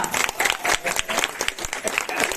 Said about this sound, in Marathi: तर टाळ्या वगैरे